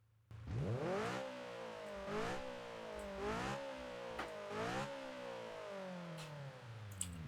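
A Honda S2000 engine in the BeamNG.drive driving game starts up and revs repeatedly, rising and falling in several sharp bursts before settling to a steady idle, heard alone and fairly loud.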